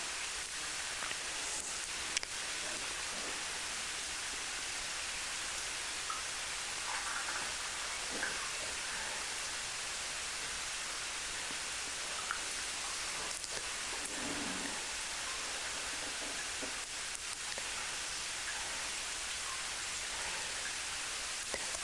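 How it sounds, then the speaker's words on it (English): Steady rain hisses evenly throughout, a broad soft wash of falling water with occasional faint drips and no voices. "It is wondrous just listening to the rain, isn't it?"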